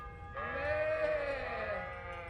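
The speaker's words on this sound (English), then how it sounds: "Priest is trying to talk to sheep right now." Sheep bleating in the video game Kingdom Come: Deliverance, one long wavering bleat that starts sharply, stays near and fairly loud, and fades out over quiet background noise.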